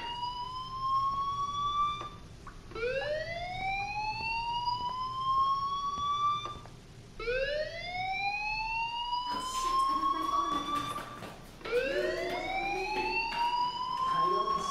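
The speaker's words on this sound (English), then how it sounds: "Hey, do you hear that fire alarm? That means you should be outside." A school fire alarm in the video game Life is Strange wails in repeated rising sweeps, each lasting a few seconds, steady and moderately loud, with some faint clatter in the background and no talk.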